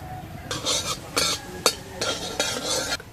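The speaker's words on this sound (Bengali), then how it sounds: "কড়ার মধ্যে দিয়ে দিচ্ছি সরষের তেল, আর দিয়ে দেবো 5 ফোড়ন।" Five-spice seeds hit hot mustard oil in a wok, giving several short bursts of crackling sizzle with brief pauses between them, close and moderately loud.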